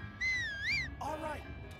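A bright, rising and falling whistle from the companion-calling whistle in The Legend of Zelda: Breath of the Wild, followed by a lower wavering tone, clear over faint game background.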